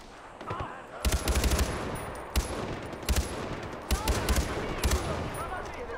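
Far Cry 4 gunfire, several sharp bursts of rapid automatic shots at regular intervals, loud over ongoing game ambience, with a voice faintly present.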